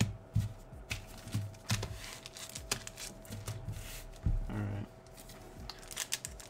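Pokémon trading card packs shuffled by hand, a run of crisp foil crinkles and flicks in uneven bursts, close to the microphone with no talking.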